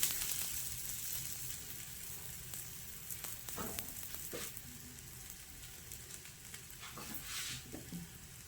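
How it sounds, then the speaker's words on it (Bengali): Cauliflower-stuffed paratha toasting in a hot pan, a steady close sizzle with occasional soft scrapes and pats, no voices. "এবার পরোটা সেঁকে নেব"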